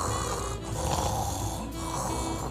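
A person imitates snoring, producing a continuous loud rasping, throaty rattle that holds steady for a couple of seconds, close to the listener with no words over it.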